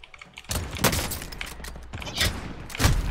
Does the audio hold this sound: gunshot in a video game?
yes